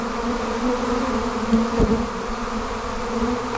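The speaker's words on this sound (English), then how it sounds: "What a fickle group of bees." Dense, steady buzzing of a honey bee swarm close by, a constant droning hum with no voices.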